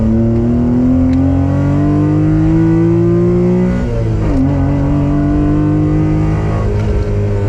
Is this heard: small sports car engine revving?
yes